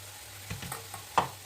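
Ground chili-fennel paste goes into radish frying in a pan. A soft sizzle is broken by a few faint stirring scrapes and one sharper clack near the end, all brief and quiet.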